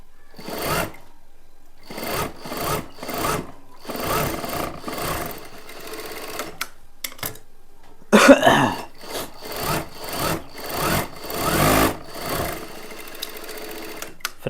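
A sewing machine stitches a plain blouse in repeated bursts of rapid mechanical chatter, each run lasting about a second, with short pauses and a few clicks and handling noises between them.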